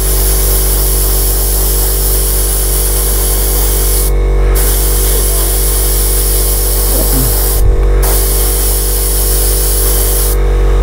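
An airbrush sprays paint onto a Kotare Spitfire Vb scale model: a loud, steady hiss runs nearly throughout, broken by two or three brief pauses, with no talking.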